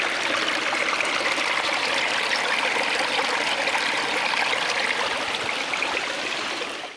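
Steady rushing and gurgling of a mountain spring stream near Abbottabad, heard up close and continuous, with no one speaking.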